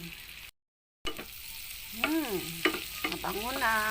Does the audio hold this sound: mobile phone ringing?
no